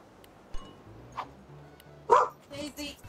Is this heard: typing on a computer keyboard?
no